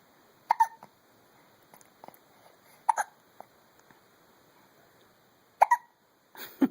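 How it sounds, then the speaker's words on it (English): Small baby hiccups sound in a quiet room, three sharp bursts spaced a couple of seconds apart plus a softer catch at the very end, with faint fidgeting between them. "baby hiccups. Aren't they cute?"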